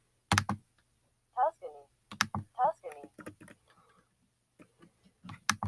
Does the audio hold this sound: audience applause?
no